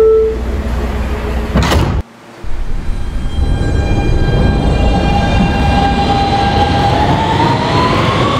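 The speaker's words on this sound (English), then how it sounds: "Stand clear of the closing doors" A subway train on the BMT Broadway Line in Roblox, an R160B Siemens car, with doors thudding shut, then a loud rumbling departure and a rising electric motor whine as it pulls away.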